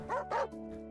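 Two quick dog barks in the Animal Shelter Simulator video game on PS5, close and clear, followed by a brief whimpering tone.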